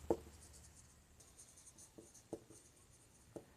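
Chalk or marker taps and strokes on a board during a class 12 maths lesson on linear differential equations, a few faint, sparse clicks and scrapes in a quiet room without talk.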